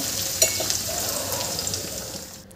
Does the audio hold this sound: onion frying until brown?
yes